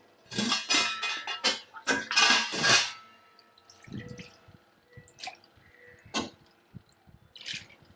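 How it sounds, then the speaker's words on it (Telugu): Water poured into a pot of fish curry (pulusu) makes a loud splashing stream for about three seconds, then gives way to quieter scattered drips, clinks and small utensil taps close by. "కొంచెం వాటర్ వేసుకుంటా నేను."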